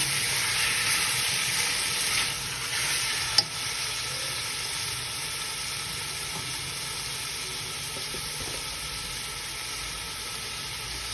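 Chicken with a teaspoon of salt frying and being stirred in a pan, a steady loud sizzle with a brief clank of the spoon partway through.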